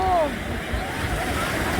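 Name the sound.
sea waves washing onto the shore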